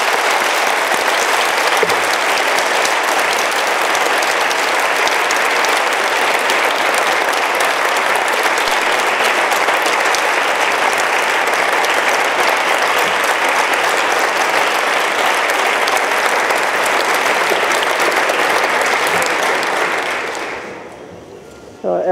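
Warm, sustained applause from a lecture audience welcoming a plenary speaker, a dense steady roar of many hands lasting about twenty seconds before tapering off abruptly.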